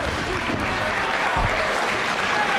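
A wrestling arena crowd applauds in a steady, dense wash of clapping and crowd noise, with faint voices mixed underneath.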